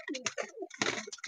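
Pigeons scuffle close by in a short burst of cooing, wing flaps and scrabbling, all jumbled together for about a second.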